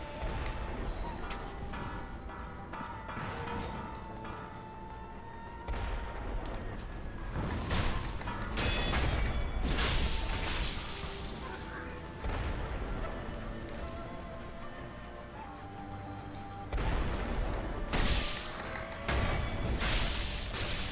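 Cannon fire in Sekiro: Shadows Die Twice: a few heavy, booming blasts, some in quick succession, burst loudly over ongoing game noise and clatter.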